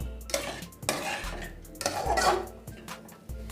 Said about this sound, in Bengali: দু 3 মিনিট এভাবে নেড়ে নেব।